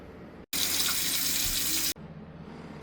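Tap water gushes steadily into a large canner pot for about a second and a half, a bright hissing splash that starts and stops abruptly, with quiet kitchen room tone before and after.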